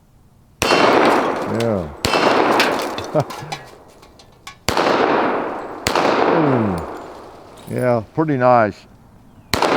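A 1911 pistol chambered in a new caliber fires at steel targets outdoors: several sharp, loud gunshots ring out spaced a few seconds apart, with a voice talking briefly between them.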